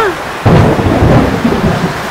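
A sudden, very loud thunderclap bursts in with a sharp crack and rolls into a heavy rumbling roar, preceded by a moment of rain-laden hush.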